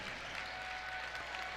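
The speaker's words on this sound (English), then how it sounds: "The Jimmy crowd that traveled here tonight to Valley City gives their team a standing O" A travelling basketball crowd gives its team a standing ovation in a gym, a dense and steady roar of applause that stays even throughout, heard from a distance.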